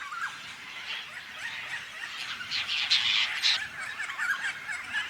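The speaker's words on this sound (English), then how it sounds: "The apostle bird, closely related to the chough." Apostlebirds in the Australian wilderness around Carnarvon Gorge give soft, scratchy chattering calls and squawks, faint and somewhat distant, repeating in loose bursts over a quiet background.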